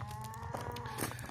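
A group of cows in a pasture on a hot day moos once, a steady, fairly close low moo with no talk over it.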